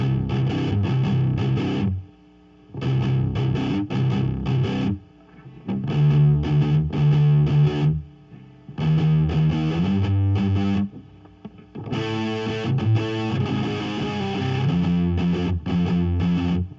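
Distorted electric guitar plays the riff of a song from Kantara in loud, chunky phrases separated by short gaps of silence, with an effects-heavy, chorused tone and no voices.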